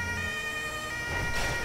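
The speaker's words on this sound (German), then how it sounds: "Jetzt machen wir mal die Sirene an, weil wir durch die Stadt fahren." A police car siren in Grand Theft Auto 5 wails continuously with steady tonal bands, fairly faint and even, with a slight rise in noise near the end; no talking.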